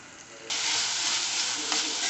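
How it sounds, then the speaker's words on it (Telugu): Moong dal sizzles as it fries in a pan with garlic paste; the hiss bursts in loudly after a quiet half-second start and then holds steady and close, with no voices. "ఒక వన్ మినిట్ ఫ్రై చేసుకోండి ఈ విధంగా"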